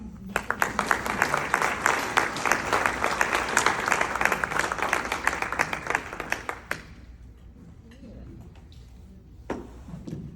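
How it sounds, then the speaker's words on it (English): Rotary Club members in Fort Lauderdale applaud to welcome a publisher to the podium: loud, dense clapping for several seconds, then a sharp stop leaving a quiet room with a few stray claps. "Please give a round of applause in welcoming Aina Lee."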